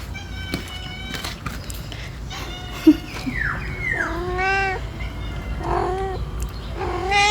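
A visiting neighbourhood cat meows repeatedly up close, a run of drawn-out, wavering calls, with a brief sharp click heard early on.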